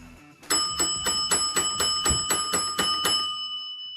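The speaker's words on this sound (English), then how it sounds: "Using your bell today" A bright bell struck rapidly about a dozen times in an even rhythm, ringing loud and close with a lingering metallic tone.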